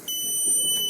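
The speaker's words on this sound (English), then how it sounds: "buzzer makes sound in the house." An electronic buzzer from an animal detection warning system sounds inside a house, giving a short, steady, high-pitched alarm tone that begins abruptly and holds for under a second.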